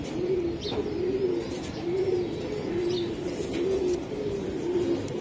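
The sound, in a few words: racing pigeons cooing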